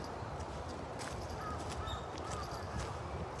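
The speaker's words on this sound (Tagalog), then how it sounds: "Daming ibon dito." Crows cawing outdoors on a walk among trees, a few faint, distant caws rising over a steady wash of open-air background noise.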